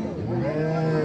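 A cow moos loud and close at a Rajshahi city cattle market, with a long sustained low call over market chatter and background voices.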